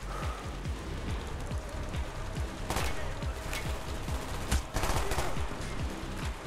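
Rapid gunfire from Call of Duty: Black Ops plays as dense, continuous rattling bursts under a busy game soundscape, with a few sharper, louder shots standing out, and no talk.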